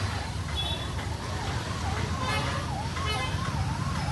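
A wailing ambulance siren rises and falls steadily over loud, continuous traffic-like background noise.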